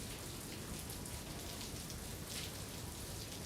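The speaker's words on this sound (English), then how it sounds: "See all that rain?" Steady rain falls in a dense, even hiss with no pauses, loud and close, with nothing else heard over it.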